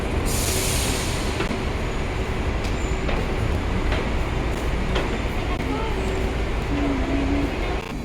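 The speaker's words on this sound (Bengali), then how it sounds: "কেএল সেন্ট্রালের ট্রেন এসে গেল" A Malaysian rail train pulls into TBS station, bound for KL Sentral. There is a steady rumble of wheels and carriages with faint brake squeals and tonal whines over a constant background, and the sound is moderately loud and continuous.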